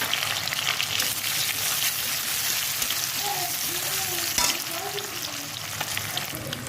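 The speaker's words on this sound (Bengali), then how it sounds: "কড়াইয়ের মধ্যে ভেটকি মাছের কিছুটা তেল দিয়ে দিয়েছি, এর মধ্যে পেঁয়াজটা দিচ্ছি" Onions frying in bhetki fish oil in a wok give a loud, continuous sizzle close by, with a few stirring scrapes and a faint background voice partway through.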